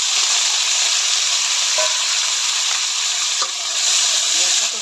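Cut vegetables and onion frying in hot oil give a loud, steady sizzle and hiss throughout, with a few faint stirring clicks.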